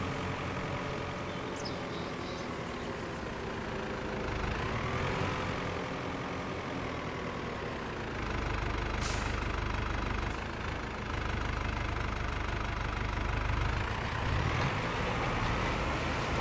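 A tractor engine runs steadily at a near, constant idle, its low rumble and faint knocking holding level throughout with a brief swell midway.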